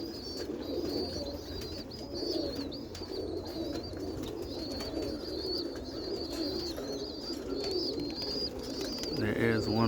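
Young roller pigeon cocks, under a year old, coo repeatedly in a loft, with soft overlapping calls and a few sharper chirps over a steady background hum.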